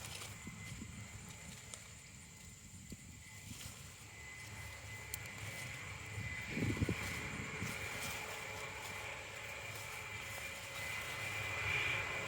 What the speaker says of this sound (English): Sounds like a big old airplane behind me